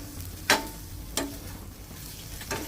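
Chicken fry with curry leaves cooks quietly in a pan under a faint, steady sizzle. Three distinct scraping strokes of a spoon stir it at spaced intervals.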